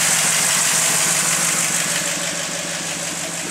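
A 1967 Pontiac Bonneville's 400 V8 with a four-barrel carburetor idling, a steady close rumble with a rough, even throb and some vibration and no one speaking.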